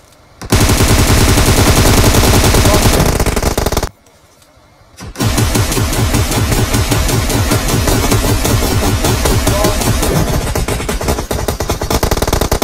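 Loud, sustained automatic M416 rifle fire in PUBG on the Erangel map, rapid bursts filling the scene, a brief near-silent gap, then more continuous shooting.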